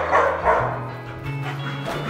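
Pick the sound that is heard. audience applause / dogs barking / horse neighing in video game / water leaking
dogs barking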